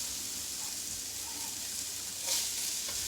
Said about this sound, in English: let the onions cook a little bit on a very low heat until they become translucent